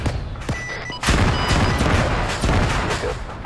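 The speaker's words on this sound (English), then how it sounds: "Oh, they're trying to use the Panzerfausts." Bursts of gunfire and explosions from Panzerfaust anti-tank launchers and other weapons in the video game ArmA 3, a dense, loud, continuous barrage of booms and shots with no gaps.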